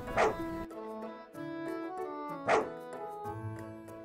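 Two bursts of a dog barking in the Fantasy Farming: Orange Season video game, each a short woof over a steady tonal background music bed of layered notes.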